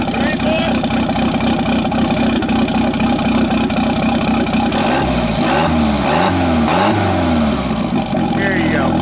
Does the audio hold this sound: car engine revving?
yes